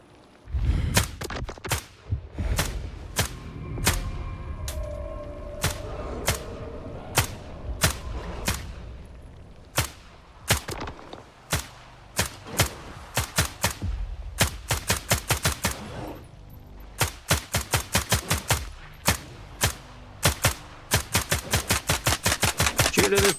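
Gunfire in S.T.A.L.K.E.R. 2, sharp single shots at first giving way to rapid bursts and dense rattling volleys, loud and close, with no talking.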